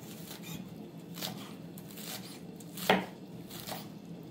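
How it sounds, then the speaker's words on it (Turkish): A knife chops green onion and parsley on a board in a few irregular, moderately loud strokes, one landing sharper than the rest, against a quiet kitchen. "Güzelce yeşil soğanımızı ve maydanozumuzu doğradık."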